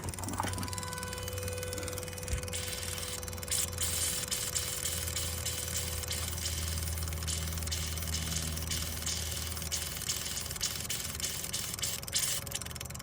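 A TYM T474 tractor engine idles steadily with its ignition on, a low continuous droning hum with faint knocking and vibration, heard close and unchanging throughout.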